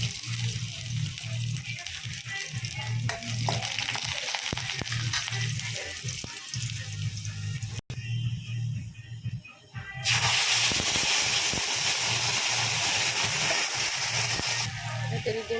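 Garlic hits hot oil in a pan for momo chutney, a loud steady sizzle and hiss that swells suddenly louder midway and keeps going.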